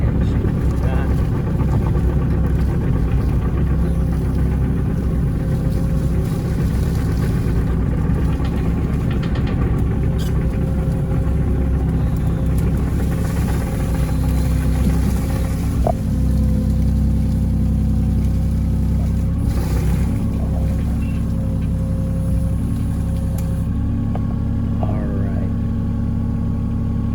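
Heavy excavator engine running steadily at a low rumbling idle while clearing a path down to an abandoned campsite, a continuous loud drone with occasional clanks and a voice talking over it.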